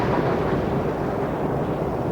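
A low, rolling thunder effect for a storm plays in a Karate Kid II read-along, a continuous muffled rumble at moderate-to-low level with no voice over it.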